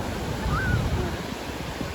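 Surf washing onto a beach in the early morning, a steady broadband wash of waves with wind noise, continuous and fairly close, with no talking over it.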